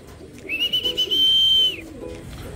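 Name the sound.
young pigeons cooing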